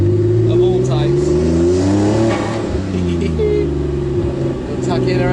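A car fitted with a Kline Fenyr Super Sport exhaust drives past close and loud, its exhaust note rising and falling as it revs, with a person talking over part of it.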